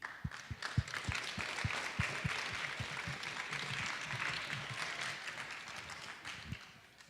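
An audience at a Love Out Loud 2013 poetry event applauds as two poets are welcomed to the stage, steady moderately distant clapping from a crowd lasting the whole stretch before fading at the end.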